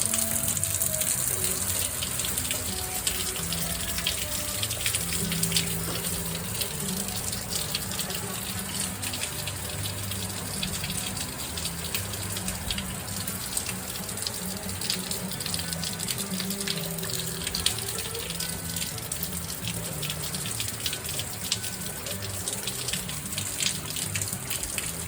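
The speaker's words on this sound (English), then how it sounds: "a lot of water just gushes over these gutters" Rainwater gushes over the edges of house gutters that have no downspouts, a continuous dense splashing rush that holds steady and fairly close throughout.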